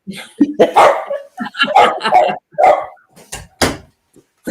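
A dog barks and yips in a series of loud, close bursts, some drawn out into whiny howls, with brief pauses between them.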